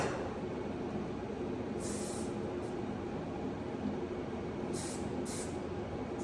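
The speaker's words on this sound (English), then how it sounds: "I'm just going to spray it." Short hissing bursts of a spray bottle, two or three quick sprays over a steady background rumble, fairly close.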